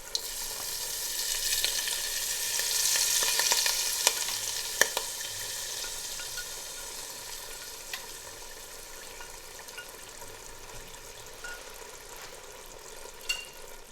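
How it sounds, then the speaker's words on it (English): Hot flavored desi ghee tadka with seeds and red chilies is poured through a sieve into saag gosht, giving a steady sizzle with a few small clinks, close and alone. "I'm just going to transfer this desi ghee which has already got the flavors from the seeds"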